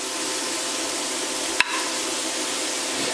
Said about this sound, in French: vous préparez une poêle avec de l'huile, vous versez les aubergines coupées en petits cubes avec les oignons